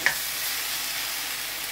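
Vegetables and cornstarch sauce sizzle steadily in a hot wok, a close, even crackling hiss with a brief stirring scrape at the start.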